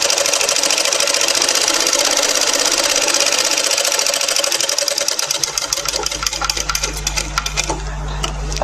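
A sewing machine runs steadily while stitching a seam on a frock, a continuous mechanical whir with a faint rhythmic ticking that grows more pronounced and steadier toward the end.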